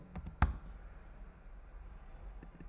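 A handful of quiet keystrokes on a computer keyboard, with one sharper click near the start, then mostly faint room hush.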